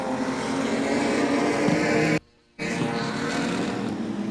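Modified production race cars battle in a Challenge Series A-main at Carina Speedway, a whole field roaring past together as one loud, continuous wall of engine noise that cuts out briefly before returning just as strong.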